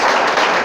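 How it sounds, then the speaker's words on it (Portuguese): A church congregation applauds during a sermon, a dense, even wash of many hands clapping together, loud and close, in a very short burst. "Pode aplaudir, pode glorificar, Ele merece."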